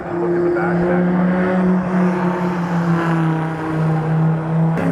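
Shelby race car engine running on track at the Drive Festival, a steady loud mechanical drone with sustained tonal harmonics throughout, holding a fairly constant pitch with slight rises.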